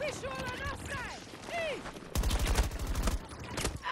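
A loud, rapid burst of automatic gunfire from the Battlefield 2042 video game cuts in midway, following a stretch of in-game voices, then ends abruptly.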